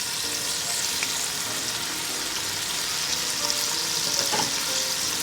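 Onions going into a pot where ham is already sizzling, giving a steady, close frying hiss throughout with a few light stirring clinks.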